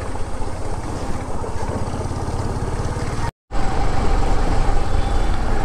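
A vehicle rolls slowly through a flooded, waterlogged road with its tyres skidding and churning through water, a steady close engine-and-splash rumble that cuts out briefly before resuming.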